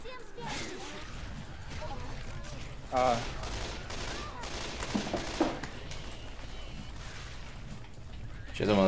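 Gunfire from the zombie shooter Left 4 Dead 2, with bursts of shots and rattling impacts in a busy game mix, louder near the three-second mark and at the end, under steady background noise and some talk.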